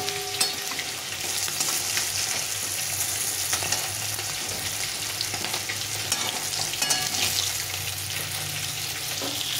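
Pieces of rohu fish fry in hot oil, giving a continuous, moderately quiet sizzle with crackling pops and occasional stirring scrapes. It plays alone with no speech.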